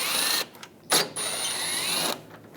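A 10mm socket ratchet working loose the upper bolts on a 2014-2018 GMC Sierra headlight, giving a close, steady mechanical whir and clicking for about two seconds, with one sharper burst partway through.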